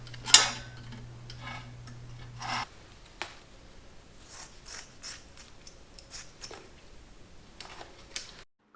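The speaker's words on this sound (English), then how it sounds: "put a wire tie now to hold the tip. And then hold it down with a screwdriver like this and pull with your pliers" A wire tie pulled tight with pliers while a screwdriver holds it down, fitting OBX exhaust headers: a quick burst of ratcheting clicks at the start, then scattered small ticks and taps, close and fairly quiet.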